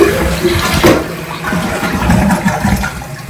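A toilet flushes nearby, a loud rushing swirl of water with gurgling pulses that stays strong throughout the few seconds, no voices over it.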